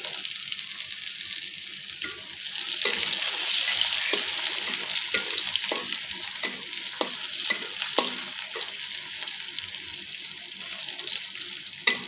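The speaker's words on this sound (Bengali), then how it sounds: "এখন আমি দিয়ে দিচ্ছি কোচানো পেঁয়াজ" Chopped onion fries in hot oil for a masoor dal tempering with garlic, a steady loud sizzle broken by repeated scraping stirs and clinks of the spoon against the pan, with no voices.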